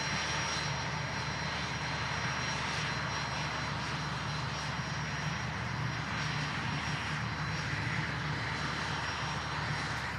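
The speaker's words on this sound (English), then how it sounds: "Another executive jet departing Manchester Airport this morning" An executive jet departs Manchester Airport, its steady engine roar filling the air continuously and loud throughout, with broadband turbine noise and a faint high whine, with no talk over it.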